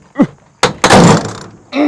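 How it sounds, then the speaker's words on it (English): Door of a 1986 Jeep Grand Wagoneer, close thuds and a heavy slam with a brief rattle, loud and near, with a short burst of voice at the end. "Hear that door slam?"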